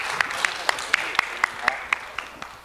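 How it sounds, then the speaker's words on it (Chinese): Steady, evenly spaced claps ring out at a brisk rhythm, applause for church members standing on stage during a gospel summer camp service, moderately loud over a soft room murmur. "给他们掌声鼓励一下啊"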